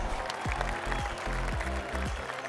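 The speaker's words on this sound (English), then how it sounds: "Crowd love that." Crowd applauding on a golf video game course laid out at an airport, steady clapping from many hands, fairly close and continuous with a few heavier thumps underneath.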